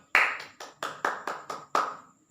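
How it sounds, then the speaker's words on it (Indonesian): Seven crisp, evenly spaced claps from an elementary school classroom's applause, fairly close and moderately loud, with no talking over them. "kita beri aplaus untuk kita semua"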